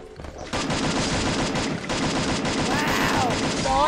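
Rapid automatic gunfire from an M4A1 in the battle royale game Free Fire, a loud, sustained burst of closely spaced shots that continues without pause for several seconds.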